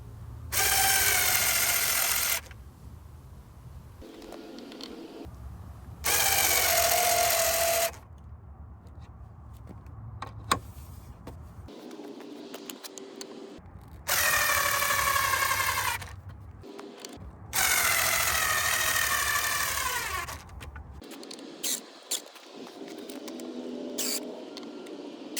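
Screws being driven into an upside-down wooden sun lounger by a power drill, heard as several loud whirring bursts of a few seconds each with quieter handling sounds in between.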